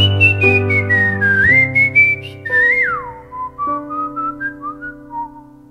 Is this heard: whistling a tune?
yes